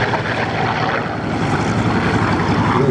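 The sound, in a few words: Hawker Sea Fury propeller aircraft flying past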